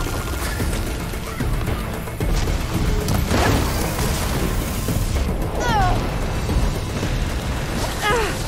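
Meteors rain down in Horizon Forbidden West combat, heavy booming crashes and bursting impacts rolling one after another with whooshing effects, loud and dense, with someone speaking German over them.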